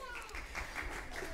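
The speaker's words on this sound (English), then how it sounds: "Give him a clap" Faint applause, a ragged patter of clapping hands under people talking and cheering.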